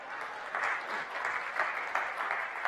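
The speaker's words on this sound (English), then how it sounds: "So we should all give him applause for making it." An audience claps steadily for a few seconds, a dense crowd applause of moderate loudness heard in a room with no talking over it.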